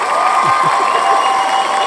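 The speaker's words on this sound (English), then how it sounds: "Throw some applause effects in after that" Loud, steady crowd applause with cheering, continuous throughout without pauses.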